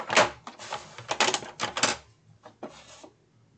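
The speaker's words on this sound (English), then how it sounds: "I have some scrap chipboard, and the chipboard is too wide for this. So I am just going to cut it down." Scrap chipboard being cut down to size, a series of short crisp crunching cuts in quick bursts, close up, followed by a couple of softer cuts and then silence.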